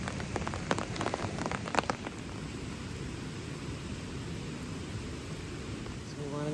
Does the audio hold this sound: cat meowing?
no